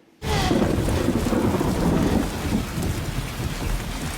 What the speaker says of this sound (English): I mean, that storm looked intense,